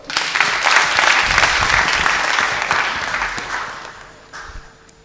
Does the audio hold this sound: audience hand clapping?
yes